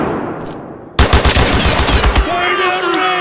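A sudden burst of rapid automatic gunfire in the video game Mud and Blood erupts after a quieter start, with loud, closely spaced shots rattling on, overlapped by other battle noise.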